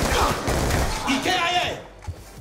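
Gunfire from Call of Duty Black Ops 2 on Xbox 360, a dense rattle of shots packed under loud, frantic talk from a player throughout.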